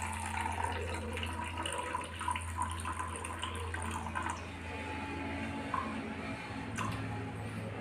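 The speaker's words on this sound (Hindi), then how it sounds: "तो सबसे पहले इसमें 95 ग्राम पानी लेंगे।" Water is poured into a batch of homemade aluminium cleaner, making a soft continuous splashing trickle with a few small drips over a low background hum, and no one talks.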